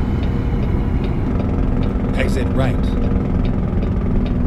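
Truck engine with exhaust brake in American Truck Simulator, a steady, loud low drone that holds throughout, with a brief rasping burst midway and a short navigation voice speaking over it.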